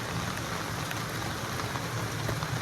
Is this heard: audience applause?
no